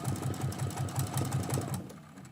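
A sewing machine stitches through quilt fabric, running in a fast, even rhythm of mechanical thumps up close before slowing and stopping near the end, with no speech.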